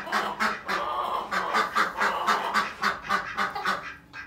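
Ducks and chickens, along with quail and turkeys, call together in a barn, a dense continuous chorus of overlapping quacks and clucks close by, with no talking.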